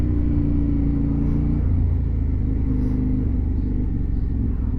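A KTM 890 Duke motorcycle accelerates hard close by, its engine a loud, steady rumbling drone with a brief rising rev, continuous for several seconds and without talk.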